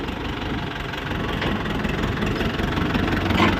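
A Ford 6600 tractor with a T3 engine idles steadily, giving a loud, continuous low rumble with a faint knocking pulse. No one speaks over it.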